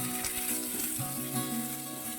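Garlic and onion sizzle in rendered pork fat in a pan, a steady close frying hiss with no talk.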